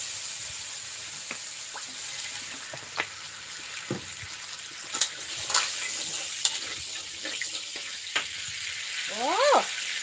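Continuous crackling sizzle of morning glory and minced pork stir-frying in hot oil in a hot wok, with occasional clinks and scrapes of stirring and a brief squeak near the end.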